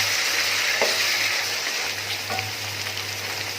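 Tomatoes tipped onto fried onions sizzle in a pan with a loud, even hiss close by, broken by a couple of faint stirring taps.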